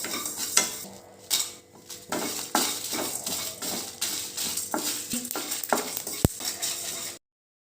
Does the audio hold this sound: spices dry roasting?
yes